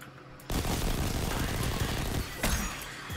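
Gunfire erupts in the video game Destiny 2 after a brief quiet moment, a sustained, loud barrage of rapid shots and impacts that surges again near the end.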